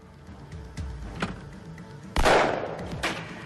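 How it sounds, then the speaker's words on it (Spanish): Low rumbling and small knocks, then one sharp, loud gunshot crack with a short echoing decay, followed by a fainter thump. "Se oyó un disparo."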